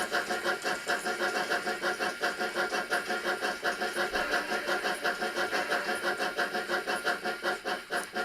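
Steady, buzzy motor whir with a fast rhythmic pulsing, continuous and fairly close, with a faint clatter of small wheels running along track.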